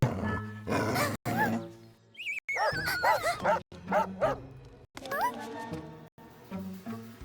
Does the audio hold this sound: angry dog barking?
yes